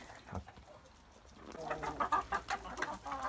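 Several chickens, including roosters, cluck close by in a quick, uneven series of short calls, following a quieter stretch with a few faint sounds.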